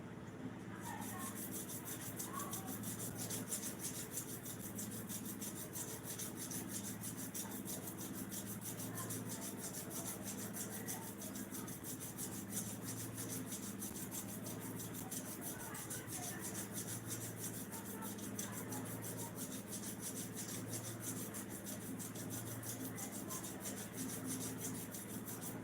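A clipper blade is rubbed back and forth on sandpaper to sharpen it, making a steady, continuous rasping scrape at a quick even rhythm that stays fairly faint and runs without pause.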